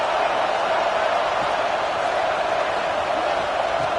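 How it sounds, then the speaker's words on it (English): Steady roar of a video game football crowd building noise to back the defense near the goal line in a CPU-simulated game, a dense continuous wash with no talk over it. "the crowd really making some noise now, trying to help out this defense to get this stop near the goal line"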